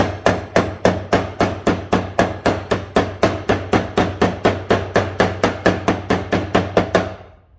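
Rapid, evenly spaced sharp taps of a hammer's pick end on a metal edge during metal shaping, about three per second, ringing close and loud before stopping.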